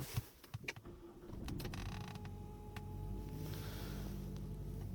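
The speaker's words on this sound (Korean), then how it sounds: "시동 한번 걸어볼게요" A Renault SM6 1.6 TCe gasoline sedan with 128,000 km is started from inside the cabin: a few clicks, a short crank, then the engine catches and settles into a steady, quiet idle hum.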